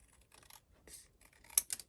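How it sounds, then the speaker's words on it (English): A few crisp snips of scissors cutting close up, quiet and irregular, with the sharpest snip near the end. "And I'm just going to use my scissors"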